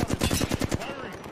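Rapid bursts of automatic gunfire in the video game Apex Legends crackle for under a second, then fade into a softer, echoing tail.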